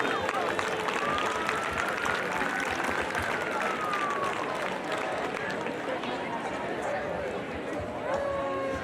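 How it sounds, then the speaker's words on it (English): Crowd at the 2022 North Hudson Pepper Fest parade, a dense wash of outdoor noise with clapping and cheering for festival sponsors, steady and fairly loud throughout, with bursts of voices and whistles mixed in. "Let's give them a big round of applause, please."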